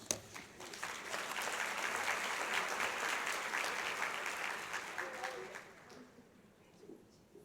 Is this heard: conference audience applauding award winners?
yes